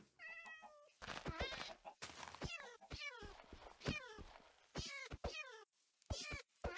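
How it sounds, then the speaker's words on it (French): Cat meows from the Minecraft video game repeat in a quick run of short, bright, rising cries with thuds between them, fairly close, under a faint steady high tone. "C'est pas bien de frapper les chats."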